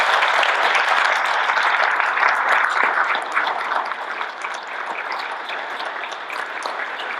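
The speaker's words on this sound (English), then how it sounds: "I think we all need to give a round of applause to Arnaldo" An audience at an aerospace summit's closing session claps in a sustained, dense round of applause that is fairly loud at first and then eases off slightly, with no speech over it.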